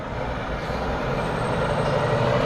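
A big truck passes on a city street near a bicycle commuter, a loud, steady engine rumble with road noise that builds slightly as it goes by.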